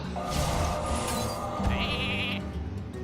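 Sheep bleating in the Hearthstone card game as a Polymorph spell turns a minion into a sheep, a couple of close, clear bleats over a busy game-music background.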